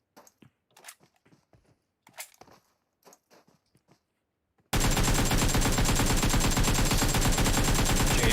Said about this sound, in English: Coming out with the AK, landing a bunch of shots